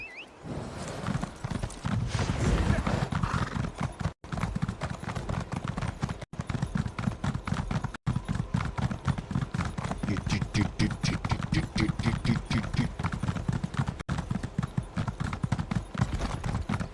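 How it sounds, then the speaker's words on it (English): Steady, rhythmic video-game horse hoofbeats clip-clop continuously throughout, with a voice talking intermittently over them. "Oh, I was already on a horse."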